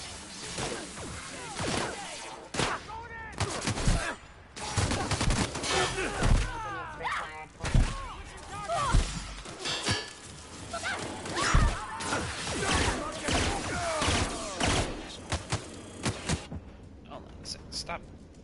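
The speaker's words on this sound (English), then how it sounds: "Stop shooting." Gunfire and impacts in The Outer Worlds during a combat encounter, irregular bursts of shots, thuds and crashes over several seconds, with a person talking throughout.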